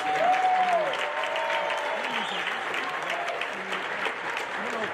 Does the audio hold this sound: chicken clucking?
no